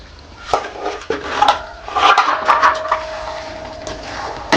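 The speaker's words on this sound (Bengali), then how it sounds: "এবার ঢাকাটা খুলে দেখে নেব।" A metal pot lid clanks and scrapes as it is lifted off a pot of simmering spicy chicken curry, with several sharp clinks and rattles close up and the soft bubbling of the curry underneath.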